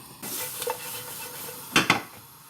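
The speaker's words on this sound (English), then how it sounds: "we just want to lightly cook these for a few minutes, just to soften those tomatoes" Chopped tomato pieces cooking in a pan for a chickpea curry, with a steady soft sizzle and two brief louder stirring scrapes near the end; no talking.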